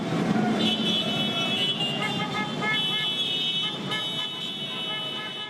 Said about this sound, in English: Honking and cheers rang out along the causeway at midnight as hundreds of travelers crossed on either side.